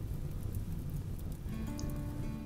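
Steady rain in the Rimworld colony sim, a dense low patter running throughout with no talk, a faint tonal hum joining in the second half.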